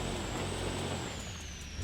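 Lifted truck driving off-road in BeamNG with the converter a little too tight, a steady low engine drone with a thin high whine above it, continuous and close.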